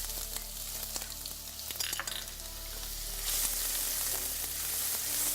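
Chopped garlic and ginger frying in a pan, a close, steady sizzle with scattered clicks of stirring that swells into a brighter, louder hiss partway through, no talking.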